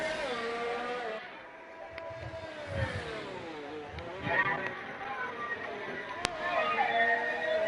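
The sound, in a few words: racing cars on track in F1-style racing video game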